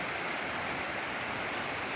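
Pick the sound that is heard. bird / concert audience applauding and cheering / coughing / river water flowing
river water flowing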